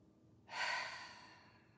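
One deep, slow breath drawn in, a soft airy rush that swells quickly and then tapers off gradually, close and quiet, taken to calm anxiety.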